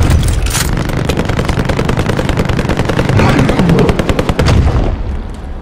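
Rapid automatic gunfire rings out in the Warzone video game, with dense bursts of loud shots and a few booms. Faint voices can be heard underneath.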